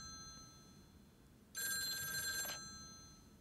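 Telephone ringing inside a small-town postal delivery video game, a single bright electronic ring burst lasting about a second, clear over a quiet background hum.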